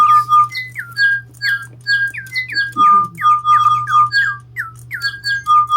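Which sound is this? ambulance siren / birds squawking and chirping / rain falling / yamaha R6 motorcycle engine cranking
birds squawking and chirping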